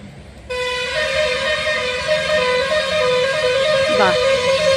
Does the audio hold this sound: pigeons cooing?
no